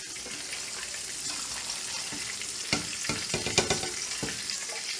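Pork chops and vegetables frying on a stovetop, with a steady broadband sizzle throughout and a few louder crackles and pops toward the end, close and fairly loud, no talking.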